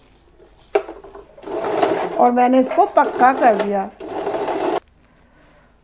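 Sewing machine stitching two pieces of cloth folded inward, a steady whirring run of a few seconds with a person speaking over and around it.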